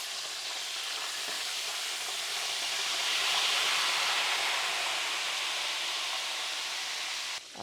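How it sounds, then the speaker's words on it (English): Chicken fried steak frying in a pan of hot oil, a dense, even, loud sizzle holding steady throughout before cutting off abruptly at the end. "now it's time to add the second piece and let this fry for 3 minutes per side"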